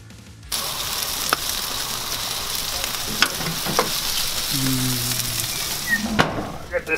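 Several strips of bacon fry in a pan with a steady, fairly loud sizzle, crackling and spitting throughout, with a few sharper pops and clinks from cooking utensils.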